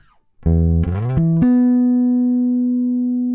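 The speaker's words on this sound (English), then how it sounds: "Let's go back to dry bass, right?" Dry, unprocessed bass guitar: a few low plucked notes sliding up, then one held note ringing out alone and slowly decaying, close and clean.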